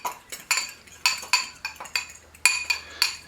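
A spoon or whisk clinks rhythmically against a bowl while fenugreek, mustard and ginger are mixed into a Thai seasoning blend, a quick series of close, bright metallic taps and scrapes with no talking.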